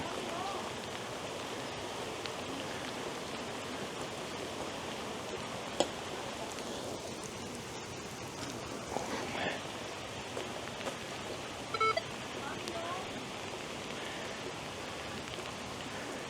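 Steady rain hissing down outdoors during metal detecting, a continuous soft wash with a few small taps and knocks, no voices.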